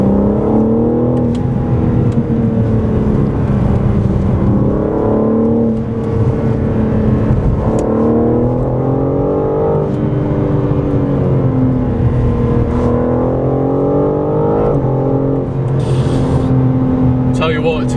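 A loud 2021 BMW M4 Competition engine revs up and down through the gears, pitch rising and dropping repeatedly, close and continuous with a voice talking over it.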